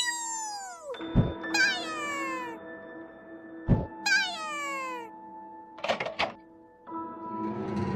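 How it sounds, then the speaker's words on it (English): Cheagle creature from the video game Tales of the Abyss crying out in a series of high, rising-and-falling meows, four or five distinct calls over a steady game music drone, close and fairly loud. "we got another Cheagle over there"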